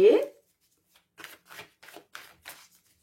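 Tarot cards handled at a table: one sharp riffle burst, then a quick run of five soft slaps as cards are dealt out one by one, close and clear with no voices.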